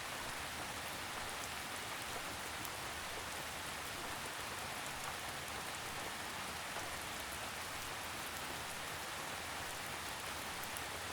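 A gentle drizzle of rain falls in an even, steady hiss with soft scattered drops, constant and unbroken throughout with no voices.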